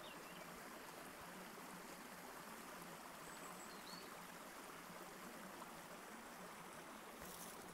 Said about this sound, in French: Je suis installée près d'un ruisseau qui coule pas loin de chez moi.